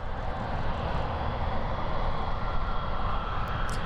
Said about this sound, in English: Here we have coming up we have a Lufthansa Cargo.